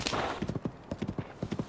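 Horse hooves clip-clopping in quick close bursts of three or four steps in Tears of the Kingdom, with a brief whinny near the start and no talk over them.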